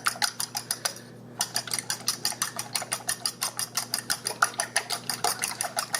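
A fork whisks nine whole eggs in a bowl for pound cake batter, a brisk, even series of clinking taps with one short pause before the rhythm resumes.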